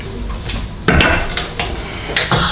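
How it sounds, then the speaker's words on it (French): Glass canning jars being set down into a cooking pot while preparing balsamic and red wine onion confit, giving a few sharp clinks and knocks at irregular intervals, close and moderately loud. "on peut mettre tous les bocaux dans la marmite"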